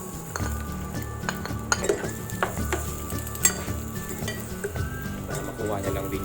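Garlic frying in a pan with leftover oil and caramelized tomato, a steady bright sizzle with occasional clinks of a utensil against the pan.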